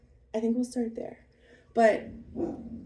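A pet dog barks a few times in a garden setting, two short sharp barks near the end under and after a woman's speech, moderately close.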